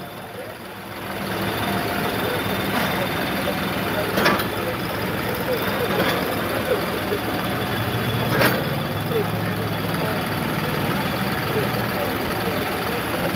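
A tractor engine idles at a tochan tractor-pulling match, a steady loud diesel rumble running throughout with a couple of brief sharp hisses and voices in the background.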